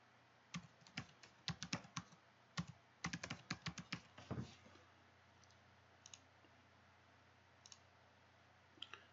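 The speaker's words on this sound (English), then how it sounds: "So we'll make up a cool password here for Little Bub" Fingers type a password on a computer keyboard in quick bursts of sharp clicks, a dense run over the first few seconds followed by a few isolated keystrokes, close and quiet in a still room.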